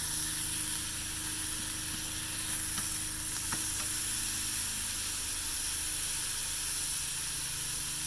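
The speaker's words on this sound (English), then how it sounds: "Flipping these so that they are browning on all sides." Pork tenderloin browning in a hot pan, a steady loud sizzle and hiss running throughout with a few faint clicks, and no voices.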